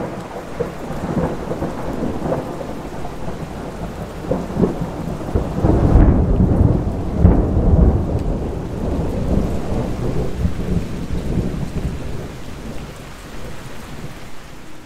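Steady rain pours down with a loud rumble of thunder building midway and rolling on, heard outdoors during a late-summer bike trip along the Spree cycle path from Cottbus, with no talking.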